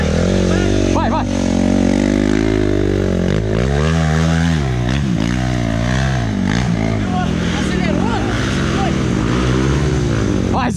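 Dirt bike motorcycle on a trail in Imigrante, Rio Grande do Sul, engine revving loud and close with rising and falling pitch as it accelerates, while people shout and cheer over it.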